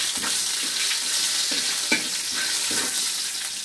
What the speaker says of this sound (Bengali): এখন ভাজছি